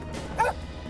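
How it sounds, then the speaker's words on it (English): A single short dog bark sounds once, mid-distance, over a steady low background hum. "She barked and stopped"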